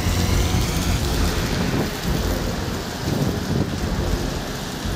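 A hailstorm with heavy rain and thunder batters Imphal, Manipur: a loud, dense downpour roar with low rumbling swells, close and continuous with no voices.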